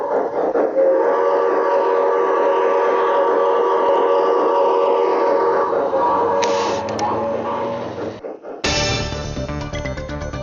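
An MTH Rail King 1-gauge model train locomotive runs on an outdoor layout, steady mechanical chuffing and whistle-like tones sustained loud and close, then a brief cut before a clattering, rhythmic section resumes; a voice may speak underneath.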